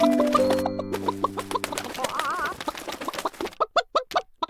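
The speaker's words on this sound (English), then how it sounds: "Why are you crying, little hen?" A cartoon hen clucks and cries, opening with sustained musical tones, then a run of short, rhythmic clucks and warbling sobs that grow sharper and more spaced toward the end.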